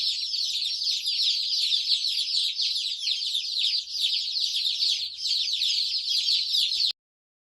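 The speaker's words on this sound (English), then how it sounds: "Here's our broiler chickens out here now." A flock of 10-week-old white broiler meat chickens clucking continuously and close by, a busy overlapping chatter of many birds with no speech.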